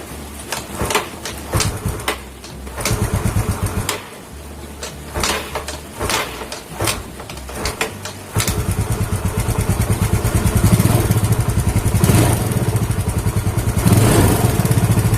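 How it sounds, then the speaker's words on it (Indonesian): A Yamaha Mio scooter with a weak battery and a PE 24 carburetor is kick-started: several sharp, uneven kicks, then the engine catches and runs steadily and loudly, close by, with no talking. "Jadi coba kita engkol ya, karena akinya udah nggak kuat."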